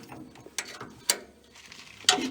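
Wrench ratcheting on a bolt at the back side of a New Holland 489 haybine with a broken PTO bearing holder: three sharp metallic clicks spaced about half a second apart, close and fairly quiet, with no talk.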